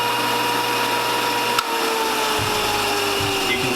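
A stationary belt and disc sander motor runs with a steady, loud mechanical whine and hum, with a small knock partway through and no talking.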